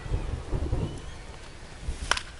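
Rain and rolling thunder in the baseball game MLB 25, with low rumbles that are heaviest at the start and a sharp crackle near the end, over a continuous wash of rainfall and no voices.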